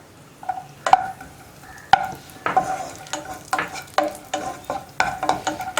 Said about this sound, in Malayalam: ഈന്തപ്പഴം വഴറ്റാനും അതുപോലെ തന്നെ അവലും വഴറ്റിയെടുക്കാനും